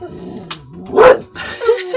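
An agitated dog barks sharply several times up close, loud and restless, with some whining and growling tones between the barks.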